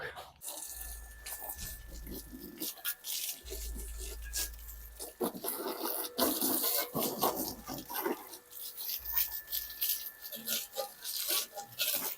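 Running water sprayed during cleaning with soap hisses and splashes in bursts alongside scrubbing and clatter, with a low motor hum coming and going and voices in the background.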